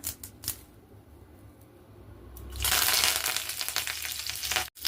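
Curry leaves dropped into a few spoonfuls of hot oil burst into a loud, crackling sizzle midway through, after a quieter stretch of faint kitchen noise, and the spitting continues steadily close by.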